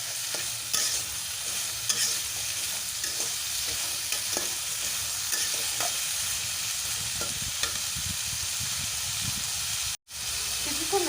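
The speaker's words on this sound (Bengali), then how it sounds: "বেগুন আলুটাকে ভালো করে তেলে নাড়াচাড়া করে নেব।" Eggplant and potato stir-fry in oil with salt and turmeric, a constant close sizzle and hiss under repeated scraping stirs, with a brief dropout near the end and no voices.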